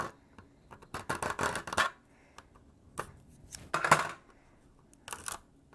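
Scissors snip and rasp through excess plastic in a few short bursts of cutting, close and fairly quiet, with pauses between clusters of crisp scraping strokes.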